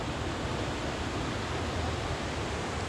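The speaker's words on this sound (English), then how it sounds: "Came up to try to get a little video of the waterfall." A steady, dense roar of a waterfall tumbling off a cliff at Lake Oroville, with high water. The broadband rush stays even and unbroken throughout, with no voices.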